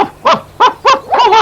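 A dog sound effect barks below a tree in an Enid Blyton audiobook scene, giving four or five sharp, close barks in quick irregular succession, the last two run together.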